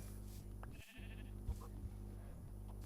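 A sheep in a Minecraft-style multiplayer survival game bleats faintly, a short wavering call over a steady low hum and game background noise.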